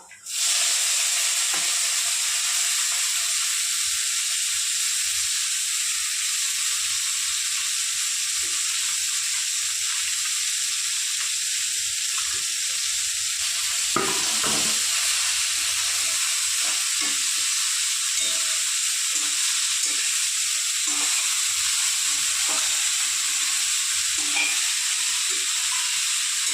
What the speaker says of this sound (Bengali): রসুনটা ভাজা ভাজা হয়ে গেলে তারপর দিয়ে দেবো আমি কালো জিরে